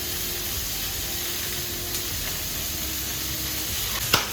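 Onions fry in a pan for a rajma dish, producing a steady, even sizzling hiss throughout and one brief clink near the end, with no talking.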